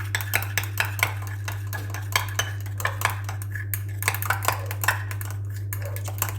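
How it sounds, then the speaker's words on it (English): Facial cream cleanser with cocoa glucoside surfactant is stirred in a container, producing rapid irregular clinks and taps of a utensil against the vessel over a steady low electrical hum, close, with no talk. "So I'll mix it."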